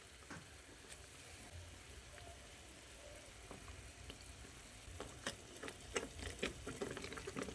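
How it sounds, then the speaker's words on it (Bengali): Fried eggplant pieces dropped one by one into a pan of boiling gravy, giving a low steady sizzle and bubbling with scattered soft clinks and splashes that grow louder toward the end. "এবার আমি এই পর্যায়ে ভেজে রাখা বেগুনগুলো এর মধ্যে একে একে দিয়ে দিচ্ছি।"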